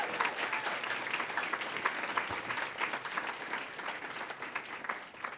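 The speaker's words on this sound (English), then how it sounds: "Can we give Kelly a round of applause?" Steady applause from a crowd of students at a political event, dense and continuous with no voices over it, holding an even level throughout.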